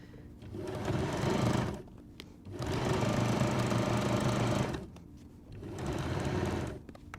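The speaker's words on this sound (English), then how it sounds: "I'm just going to sew around here from the top of the coat hanger safe" A domestic sewing machine stitches around a fabric coat hanger safe in three close, steady whirring runs, each a couple of seconds long, separated by short pauses.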